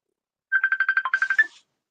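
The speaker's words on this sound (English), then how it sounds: "I got a video phone call." A phone ringtone for an incoming video call plays a quick run of about a dozen bright, evenly spaced electronic beeps, clear and close, then stops, with no talking over it.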